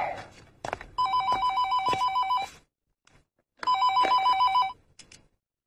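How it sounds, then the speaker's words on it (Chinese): An indoor home telephone bell rings in two loud, trilling bursts separated by a brief silence. It is close and clear, with no voices. "肯定又是你的电话，你接吧"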